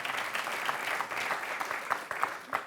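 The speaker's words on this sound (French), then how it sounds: "Et oui, Nadine applaudit, c'est la bonne réponse." Applause from a quiz show audience after a correct answer, a dense, even patter of many hands clapping at moderate volume, steady throughout with a few sharper individual claps.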